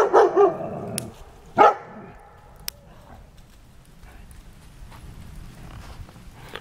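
A dog barks outdoors at a winter lean-to camp, with a few loud close barks early on, a sharp single bark near the middle, then faint crunching and rustling.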